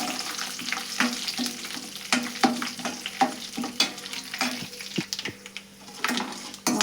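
Urad dal and chana dal fry in hot oil with a close, crackling sizzle, broken by frequent scraping stirs and light clinks of a utensil against the pan.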